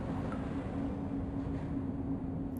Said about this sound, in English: Let's just wait for the train to go by.